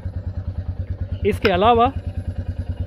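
Royal Enfield 350 motorcycle idling with a steady low thumping pulse throughout, close by, while someone speaks briefly over it midway.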